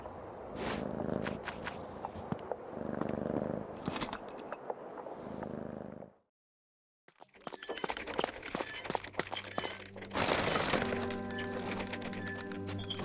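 A cat purrs in the puzzle game Creepy Tale 2, a soft rhythmic rumble under game sounds and scattered clicks, cut by a moment of silence before busier, louder game noise returns.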